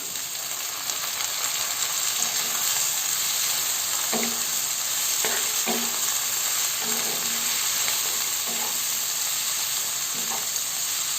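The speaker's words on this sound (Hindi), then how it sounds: "तो एहिमे हम साथे में मशरूम राख के कनिक मशरूमों के भूज लेबै।" Mushrooms and onions frying together in a pan for a matar mushroom curry, a constant hissing sizzle broken by several soft stirring scrapes in the second half, with no talking.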